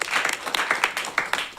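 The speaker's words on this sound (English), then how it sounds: "Please keep clapping until she gets here." Audience applause greets a winner announced at a children's media reality show, steady clapping from a crowd filling the whole stretch with a few sharper bursts, fairly close and without talk.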